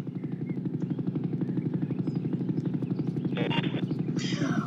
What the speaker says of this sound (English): Did I just see an army heli?